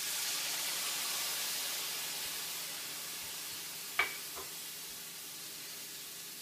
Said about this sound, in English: Now we're going to add the white wine and let it cook for just a few minutes until the alcohol burns off.